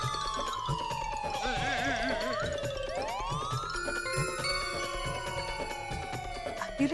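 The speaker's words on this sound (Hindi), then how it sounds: "ये सायरन तो एम्बुलेंस का है।" An ambulance siren arriving at a residential housing society, a wailing tone that sweeps down and up across several seconds, fairly close and loud, with distant voices underneath.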